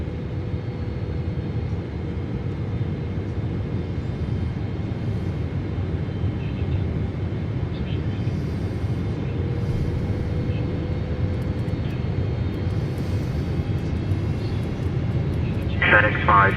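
Inside an airliner cockpit during a landing approach in Microsoft Flight Simulator 2024, a steady broadband engine and wind roar runs throughout, with radio voices speaking over it.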